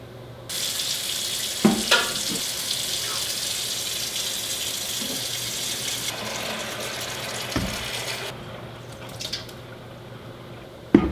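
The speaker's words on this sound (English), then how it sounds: "I'll dump this water out." A pot of boiled pork skins is poured out into a kitchen sink, water gushing and splashing steadily for several seconds, with a few clanks of the pot.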